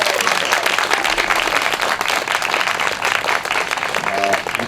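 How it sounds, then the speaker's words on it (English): Audience applause at an indoor political event on women and the economy, welcoming the hosts: dense, steady clapping from a sizeable crowd, loud and close, sustained for the full stretch with a faint voice briefly rising near the end. "Give them a big round of applause."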